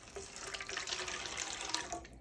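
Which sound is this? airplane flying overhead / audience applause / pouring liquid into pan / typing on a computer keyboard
pouring liquid into pan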